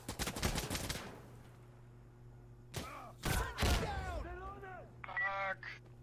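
A sniper rifle shot in the tactical shooter Insurgency Sandstorm, a sharp loud crack among a rapid burst of gunfire at the start, followed by a couple of later shots and some game sounds.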